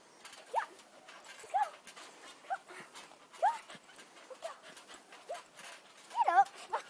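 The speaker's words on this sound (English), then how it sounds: "little puppy" A little puppy gives soft, high whimpers and squeaky whines in short bursts, fairly faint and close, with quiet breathy panting between them.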